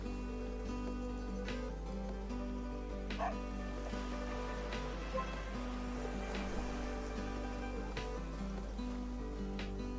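Dog barks and yips from the video game The Doge Island, a few short barks popping up over steady, looping game music with a low constant hum underneath.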